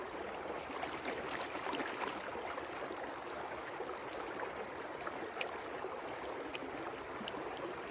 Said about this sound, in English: stick the pan in the water, let it take that top layer